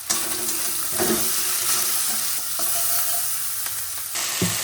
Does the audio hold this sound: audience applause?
no